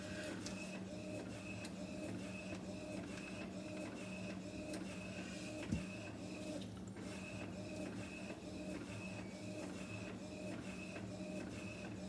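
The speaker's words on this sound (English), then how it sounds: "I am printing off the next image for my next project." A sublimation printer runs through a print job, its carriage shuttling with steady mechanical whirring and rhythmic clicks, plus one sharp knock partway through, close and continuous.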